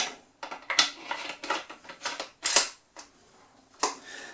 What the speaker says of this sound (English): Let's pop that bolt back